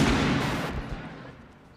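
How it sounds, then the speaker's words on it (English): Gunfire from a scene in the film Never Been Kissed: a dense, loud burst of shots in the opening second, then a quickly decaying echoing rumble. "Oh, they're shooting up in here!"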